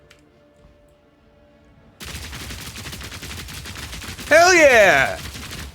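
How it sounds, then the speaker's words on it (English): Rapid machine-gun fire in Path of Exile 2, from a Mercenary's gun loaded with 50 bullets, bursts in after about two seconds of near-quiet and rattles on steadily and loudly while someone shouts excitedly over it. "Machine gun!"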